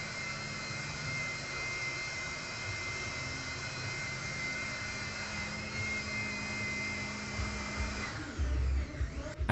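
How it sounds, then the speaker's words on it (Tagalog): A portable electric blower, also usable as a vacuum, dries a bike with a steady, loud, high-pitched whirring roar that holds constant, then ends in a few handling bumps and clunks. "ginamitan naman natin ng blower na nabili ko din online"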